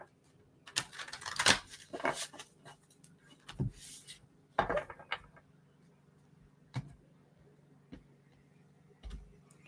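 Soft, scattered riffling and slapping of tarot cards being shuffled, brief bursts with pauses between, close and fairly quiet.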